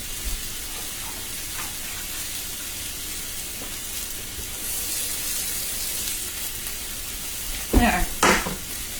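Leeks and asparagus sizzle steadily in a hot pan while being cooked for a frittata, a continuous close frying hiss, with a brief clatter of utensils near the end.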